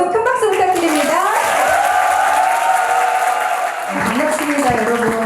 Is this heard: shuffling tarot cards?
no